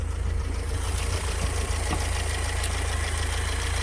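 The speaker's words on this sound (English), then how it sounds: "let's look at this engine and listen to it." A BMW E30 Touring's 1.6-liter four-cylinder engine idles steadily, a low even rumble with a faint rhythmic tick, heard close and alone without voices.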